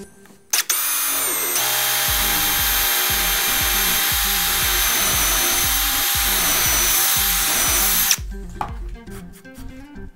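A power drill bores through a wooden piece, its loud, steady whine running for about six seconds over a low rhythmic churning before stopping abruptly, leaving faint rattles and clicks.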